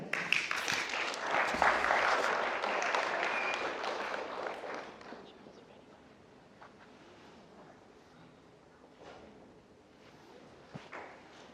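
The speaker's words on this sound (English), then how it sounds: "one more round of applause for the Tuesday 5:30 class" Audience clapping at a Kindermusik children's music class graduation ceremony, loud and dense for the first few seconds, then thinning out and fading to a low room murmur with scattered claps.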